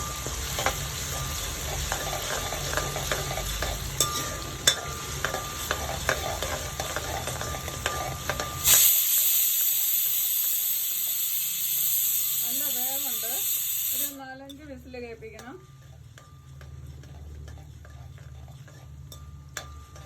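Chopped ginger sizzles in a hot pan for sooji wheat upma, a steady loud frying hiss that brightens into a sharper, airier sizzle midway, with a few faint whistling tones before it settles quieter.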